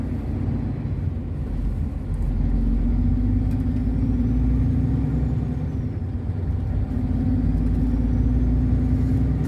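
A car pulls away from a toll point after the barrier lifts, on the road toward Gatchina, a steady close engine and road rumble with a low hum that rises slightly as it moves off.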